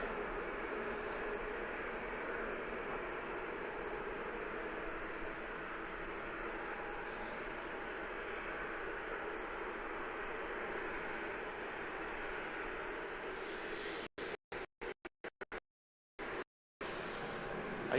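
An Egyptair airliner taxis at Manchester Airport with a steady, broad engine roar heard from a distance, broken by abrupt dropouts near the end.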